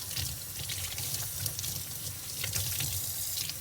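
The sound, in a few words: rinsing plastic vacuum cleaner parts under running tap water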